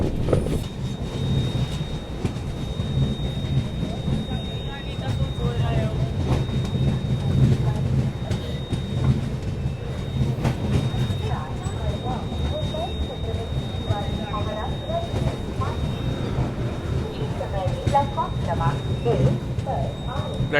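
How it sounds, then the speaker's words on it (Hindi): Mandovi Express pulling into platform 1 at Chiplun railway station in bad weather, a steady low rumble of rolling carriages and wheels continuing throughout, with people talking nearby. "चिपळूण में अपनी ट्रेन का यहाँ पे अराइवल हो रहा है।"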